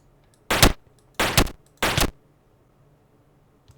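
Gunfire from a Minecraft gun mod crackles in three short, loud bursts of rapid shots about two-thirds of a second apart, each over almost instantly, with near silence between and after.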